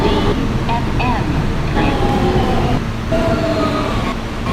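Interior rumble of a Kawasaki R160B subway train on the New York R local line, a loud steady roar of wheels and motors with rising electric whines, and a voice speaking over the din.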